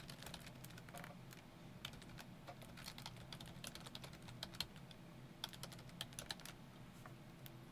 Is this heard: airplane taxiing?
no